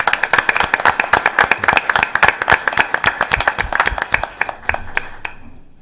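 A room full of people at a school board meeting breaks into steady applause, dense hand claps that keep going for several seconds and then thin out and fade at the end.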